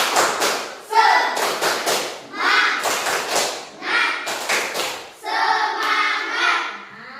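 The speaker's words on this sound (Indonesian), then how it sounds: "Yuk, tepuk semangat lagi." Children in a primary-school class perform a tepuk semangat, a rhythmic group clapping chant, with loud bursts of clapping in a steady beat alongside chanting voices.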